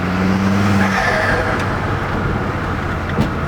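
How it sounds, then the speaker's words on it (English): Ford Focus turbo modified for a louder, high-pitched flutter, heard up close as a loud, continuous rushing whoosh with a brief tonal flutter early on, no talking over it. "it's a lot louder, but I don't know if I like the high pitch flutter."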